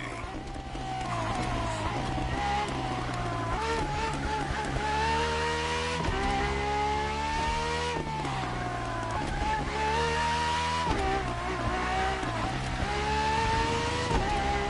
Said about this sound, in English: you'll be driving the FXXK.